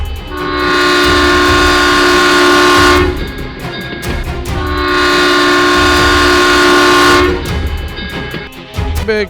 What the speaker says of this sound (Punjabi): ਸਾਹਮਣੇ ਟ੍ਰੇਨ ਆ ਰਹੀ ਹੈ